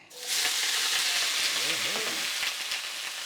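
Oil for pepper steak sizzles loudly and steadily in a pan, rising quickly to a dense crackling hiss that holds throughout, with a faint voice-like murmur briefly underneath.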